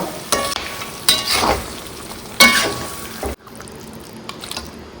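Mutton roast masala for a Kerala-style mutton curry being stirred in a pan: a few scraping, sizzling stir strokes over steady frying hiss, ending in a quieter simmer, close and moderately loud with no talking.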